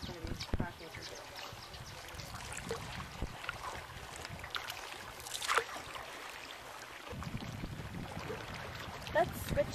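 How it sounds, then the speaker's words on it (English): Canoe paddling on Mono Lake: quiet, irregular paddle strokes and water trickles close by, with people talking and wind faintly audible. "Let's switch paddling side."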